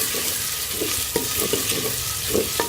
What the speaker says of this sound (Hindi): अब इसके अंदर लहसुन अदरक का पेस्ट भी शामिल कर लेंगे और इसको भी 1 से 2 मिनट में इसी तरह से भून लूँगी